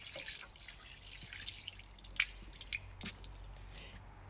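Water drips and trickles outdoors while watering with diluted bokashi juice, quiet scattered droplets and patters over a faint steady wash of running liquid.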